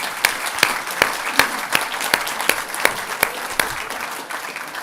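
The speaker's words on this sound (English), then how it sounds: "Can we just give him a round of applause for turning up?" An audience at a university lecture on Indigenous affairs claps steadily, a dense patter of many hands with regular sharper claps standing out, loud and close throughout.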